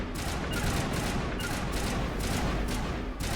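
Dense, continuous gunfire in the video game Mass Effect, rapid overlapping shots forming a loud, unbroken barrage.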